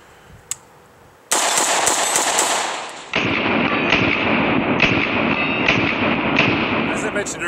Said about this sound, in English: I'm going to try to send a few rounds down range here relatively rapidly.